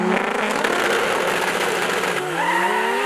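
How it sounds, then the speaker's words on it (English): A Nissan Skyline R34 GT-R launches hard at a drag strip in a 1000hp shootout, its engine roaring loud and continuous with tire noise and a rising pitch as it accelerates away. "The R34 just getting that better launch to the 100-foot mark, and then he's just able to stay out in front"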